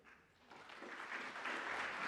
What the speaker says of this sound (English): Delegates, please hold your applause.